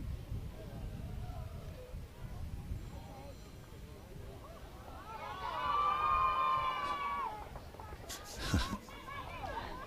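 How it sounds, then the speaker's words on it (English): Spectators at a bowls national tournament finals day, a distant crowd murmuring that swells into a brief cheer and clapping, with voices talking over it. "Good to hear people enjoying themselves."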